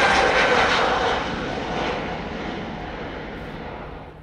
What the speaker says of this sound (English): Now we've Vueling's A320 near, and that's the Amsterdam to Lisbon flight.